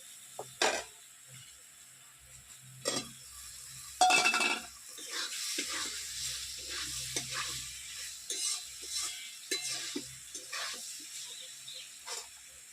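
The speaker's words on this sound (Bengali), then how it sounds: "মশলাটা খুব ভালো করে ভেজে নিয়েছি তেল ছাড়তে শুরু করেছে আমি এবার আলু ইঁচড় দিয়ে দেবো" Potato and young jackfruit go into hot, well-fried spices in oil with a little sugar for a jackfruit and prawn curry made without onion or garlic. A spoon stirs and scrapes against the pan in irregular bursts over a soft, steady sizzle, close up, with no talking.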